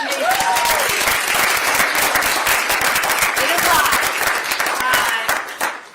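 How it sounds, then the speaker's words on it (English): Audience applause at a community event announcing the expansion of a cash assistance program for pregnant women and new parents in Wayne County: steady, dense clapping for about six seconds with a voice speaking over it, tapering at the end. "Round of applause."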